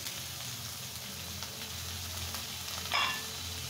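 Cabbage for a badha kopir chorchori goes into a hot pan and sizzles in a steady, close, hissing fry that holds for the whole stretch, with one brief louder flare near the end.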